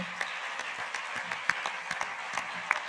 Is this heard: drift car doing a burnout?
no